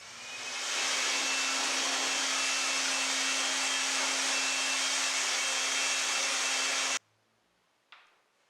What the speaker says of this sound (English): I used my Dremel to clean out the grooves a little bit more